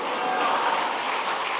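A congregation claps together during a Sunday evening church service, a brief, even wash of many hands at moderate volume with no distinct individual claps.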